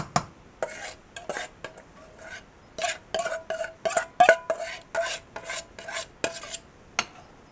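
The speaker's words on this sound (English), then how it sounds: "And now you're going to stir constantly." A pot of natilla custard with egg mixture is stirred steadily, giving a quick series of close, bright scraping strokes of a utensil against the pot with short pauses between them.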